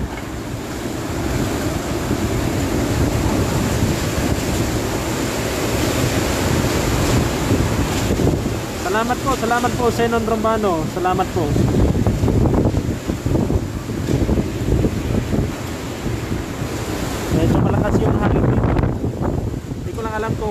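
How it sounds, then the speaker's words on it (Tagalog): Strong typhoon wind from Super Typhoon Goni roars steadily outdoors at a city police office in the Philippines, with gusty rumble and surf-like noise throughout and someone talking over it. "Malakas yung hangin dito sa ating location ngayon sa Maynaga City Police Office."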